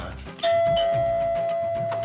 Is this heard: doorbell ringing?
yes